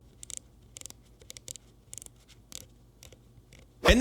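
Keys clack on a Lemokey L0 HE one-handed gaming keyboard in short irregular bursts of crisp tactile clicks with brief pauses between them, ending in a louder clattering burst.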